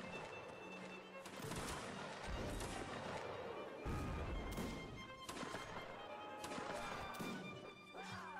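Gunfire in a line-battle video game, volleys shooting into a camp, crashing in repeated heavy bursts over a dense, noisy battlefield din.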